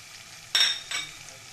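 Chili paste and cumin powder hitting a pan with cashew paste for a rohu fish curry. Two quick, close sizzling bursts are heard against quiet background.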